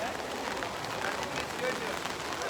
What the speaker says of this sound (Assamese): বহুত বৰষুণ দি দিলে পুতুককৈ